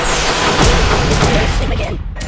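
Shooting in the game Kick The Buddy: a dense, loud barrage of booming gunfire and crashing impacts rattling continuously before cutting off abruptly near the end.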